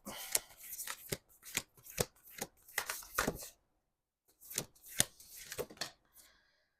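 A deck of Moonology oracle cards is shuffled close by in quick riffling bursts, with a short pause before a second round of shuffling.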